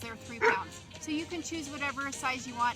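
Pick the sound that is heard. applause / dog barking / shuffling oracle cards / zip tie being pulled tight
dog barking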